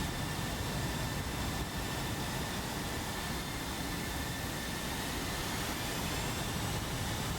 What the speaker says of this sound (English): it looks like we are seeing the F-16s start making their way